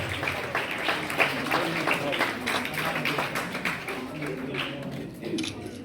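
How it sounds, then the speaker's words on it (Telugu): Audience clapping at a community service event in Avanigadda, Krishna district, as a garland is presented; steady, moderately loud applause with scattered sharp claps runs throughout, with faint voices mixed in. "చప్పట్లు కొట్టండి"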